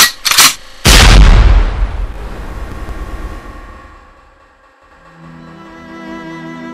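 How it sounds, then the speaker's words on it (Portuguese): Gunshots from a firearm ring out in an arid backcountry setting: two sharp close bursts, then a heavy loud blast that decays slowly into a long echoing tail before quieter sounds return. "Irritado, começou a atirar."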